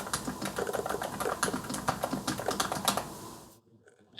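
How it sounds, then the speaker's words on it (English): Soft, rapid typing on a quiet mechanical keyboard, a Keychron C2 or Minilo 98 Pro, with a steady stream of muted keystrokes up close that stops abruptly near the end. "I typed, this keyboard also sucks. But it was softer."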